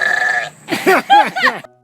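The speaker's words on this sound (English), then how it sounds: "Listen to this goat burp." A goat burps: a long, low guttural croak followed by a few short grunting bursts, close up and fairly loud, with no talking.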